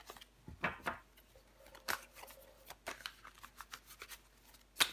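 Playing cards handled and laid out on a table, soft scattered swishes and taps close by, quiet and intermittent.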